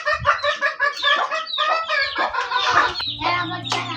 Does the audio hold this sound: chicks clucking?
yes